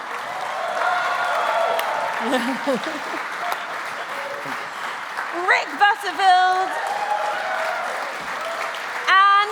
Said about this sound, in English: And don't stop clapping, don't stop whooping.